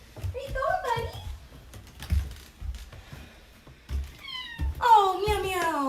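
A pet cat named Mago meows twice, a short call early and a longer, louder one near the end, amid soft tapping and clicking noises close by.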